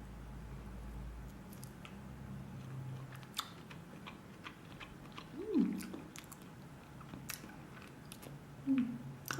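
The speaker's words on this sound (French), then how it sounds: "je vais croquer un petit bout" Someone bites into and chews a rubbery low-fat cheese containing cumin, with soft, close mouth sounds and a few sharper squishy bites standing out against faint background noise.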